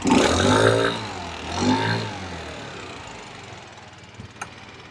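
Big-bore engine warming up, with a loud rev swell near the start and a second rise soon after, then settling into a steadier, quieter idle with a couple of brief clicks toward the end.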